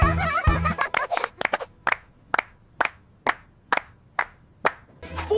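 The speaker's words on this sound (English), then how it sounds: "Eight's clapping hands with joy and big smiles." A cartoon baby number character claps its hands: roughly ten crisp, evenly spaced claps ring out alone after a brief burst of busier sound at the start, with more noise returning at the end.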